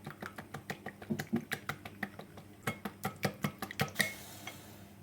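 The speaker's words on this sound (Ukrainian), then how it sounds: "І ретельно все розмішую" A spoon scrapes and clinks against a plate in quick, steady strokes as batter with sour cream is stirred, close by with no voices.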